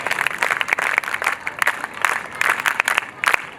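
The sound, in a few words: children clapping for Acharya ji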